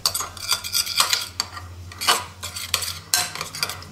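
A spoon clinks and scrapes around a dish while preparing a potato galette with semolina, giving a run of bright metallic taps and clatters in quick, uneven bursts, close and fairly loud with no talking.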